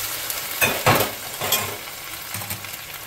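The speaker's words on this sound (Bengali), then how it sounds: "এরপর এর মধ্যে দিয়ে দেবো গরম জল।" Hot water poured into a pan of frying cauliflower masala, giving a few brief splashy bursts of sizzling and stirring over a steady low crackle of cooking, close by with no talk.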